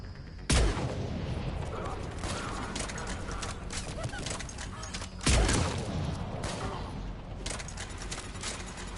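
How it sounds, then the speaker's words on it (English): Mortar fire and gunfire in a Mass Effect 3 battle. Two heavy booming impacts stand out over continuous distant crackling gunfire, with voices talking at times. "Commander, we're getting a lot of mortar fire."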